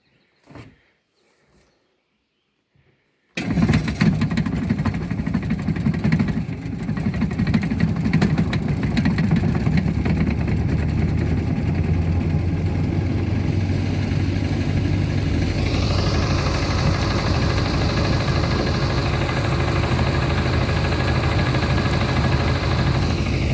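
A 1959 Johnson Super Sea-Horse 35 hp outboard motor on an AeroCraft boat catches after a few faint attempts and settles into a loud, steady running drone that holds to the end.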